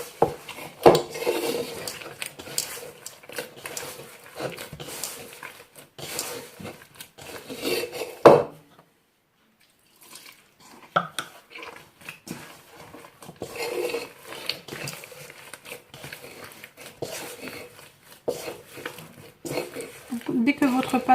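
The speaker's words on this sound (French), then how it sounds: "Donc je vais ajouter de l'eau jusqu'à la consistance choisie et ensuite je vais la mettre à pétrir" Semolina dough for msemmen being kneaded in a bowl: a steady rubbing, rasping scrape that repeats for several seconds, stops in a brief silence, then carries on. Talk is heard over parts of it.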